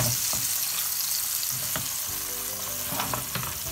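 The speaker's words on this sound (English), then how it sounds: "So that you sometimes have to move the pan a little bit," Sea bream fries in a pan as the pan is shifted on the stove, a dense steady sizzle with a few scraping bumps from the movement, alone without speech.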